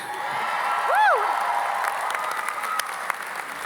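A crowd claps steadily, and a single whoop rises above the applause early on as people cheer.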